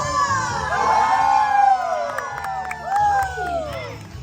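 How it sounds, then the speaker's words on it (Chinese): A live audience at a stage performance of a Taiwanese song cover cheers, whoops and screams loudly, a dense crowd roar rising and falling with high shrieks over it, with no music underneath. "场上的朋友尖叫声！"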